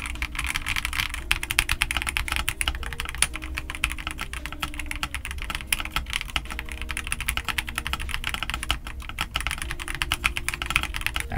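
Someone types steadily on an XVX S K80 mechanical keyboard, and the dense, rapid clacking of the keys runs close and continuous, with no talking.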